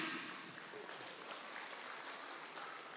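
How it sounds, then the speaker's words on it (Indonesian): Applause from a crowd at a Batak community gathering, the Pesta Olop Olop Patogar festivities in Bekasi, heard as a faint, steady wash of clapping held at a distance for about three seconds. "Tepuk tangan dulu kita."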